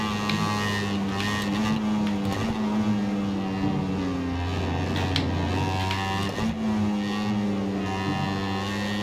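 A continuous Ducati Desmosedici motorcycle engine drone with shifting tones, dipping and rising as the throttle closes and gears change, loud and close throughout.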